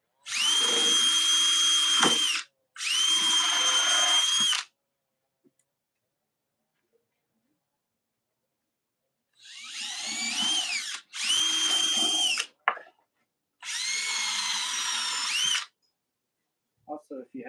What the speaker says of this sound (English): when this first drill bit goes through, it doesn't blow the back of the wood out as much